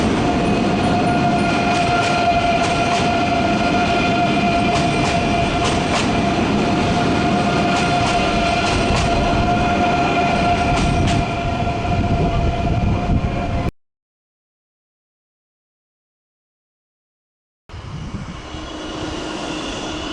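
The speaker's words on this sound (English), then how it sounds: "This is my first ever ICE train." A German ICE high-speed train runs on the railway with a steady, loud roar and rumble and faint tonal whine. It drops to silence partway through and then resumes more quietly.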